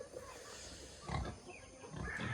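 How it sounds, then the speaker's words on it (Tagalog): Pigs grunting on a farm near a creek, several low snorts and oinks close by over a faint outdoor background. "Ang dami ng baboy kasi malapit."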